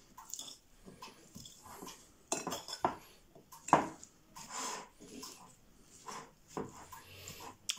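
A salad is tossed in a bowl with utensils, making irregular clinks and scrapes of cutlery against the dish, some sharper knocks among softer rustling, close up and fairly quiet, with no talking.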